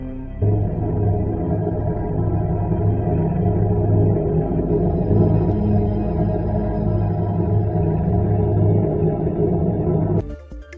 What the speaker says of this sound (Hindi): अब हम लोग चांद की उस रहस्यमयी आवाज को सुनेंगे जिसे प्रज्ञान रोवर और विक्रम लैंडर ने चंद्रमा की सतह से भेजा है।